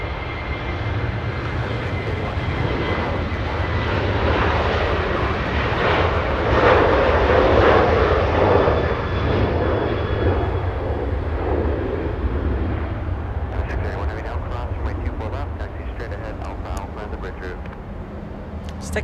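A Southwest Airlines Boeing 737 jet roars steadily at Los Angeles airport, loud and close throughout, with the engine rumble easing slightly toward the end as crackly bursts overlap it.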